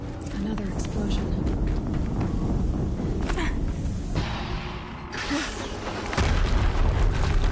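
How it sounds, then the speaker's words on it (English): Explosions boom in the snowy setting of the video game Horizon Zero Dawn, with a heavy, continuous low rumble and scattered sharp cracks, surging louder toward the end. "Another explosion."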